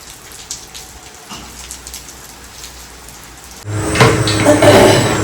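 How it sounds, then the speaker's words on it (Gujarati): Heavy rain falls outdoors in a steady, dense hiss of drops hitting surfaces, growing noticeably louder and closer partway through, with no talking. "અહીંયા જોરદાર મજાનો વરસાદ પડી રહ્યો છે"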